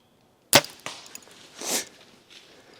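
A bowhunting hinge release fires with a sharp, close mechanical snap, followed by a softer tap and a brief rustling swish, then quiet.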